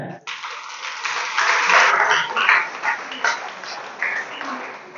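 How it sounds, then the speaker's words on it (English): A round of applause at a students award ceremony for a development association, steady crowd clapping swelling and then holding for several seconds in a hall. "But I would like everybody to give a round of applause to Honorable Mustafa Jai."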